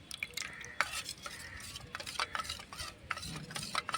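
A custard powder mixture for kulfi is stirred briskly in a bowl, giving a steady scraping swirl punctuated by light clinks of a spoon against the sides, close and moderately loud with no talking.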